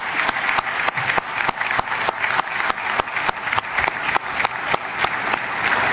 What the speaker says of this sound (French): S'il vous plaît, un applaudissement